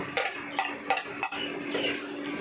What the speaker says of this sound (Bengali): এটা দিয়েও ভালো করে নেড়ে দেব